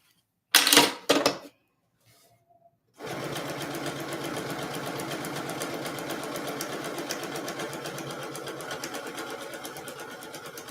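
A home sewing machine stitches fabric in a steady, rapid mechanical run that lasts several seconds, following a few brief clicks and a short pause as the needle settles in.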